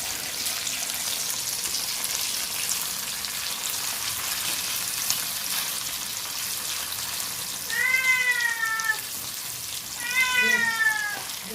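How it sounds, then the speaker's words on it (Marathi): A pet cat named Simba gives two clear, rising-and-falling meows near the end, heard over the steady sizzle of prawns frying in a pan. "सिंबाला पण बघा आमच्या वास लागलेला आहे तो पण मावमाव करतोय"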